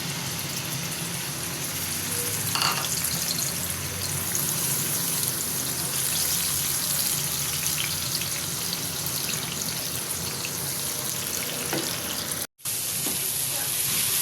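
Onion paste fries in a pan for Lahori chickpea and meat curry, producing a constant hissing sizzle, steady and moderately loud for the whole stretch, with one brief dropout near the end.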